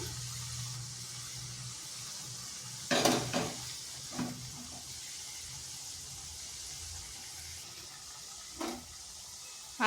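A soft, steady sizzle of semolina snacks frying in hot oil over medium heat in a wok, broken by a few sharp scrapes and clinks of stirring.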